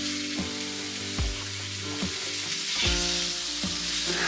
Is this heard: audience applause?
no